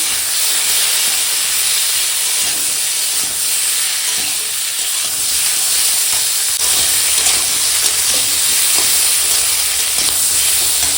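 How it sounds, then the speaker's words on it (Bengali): Vegetables sauté in a pan with a ginger-cumin spice paste, giving a steady close hiss and sizzle with faint stirring scrapes throughout. "মশলার সঙ্গে সবজিটা এখন কষানো হয়ে গেছে"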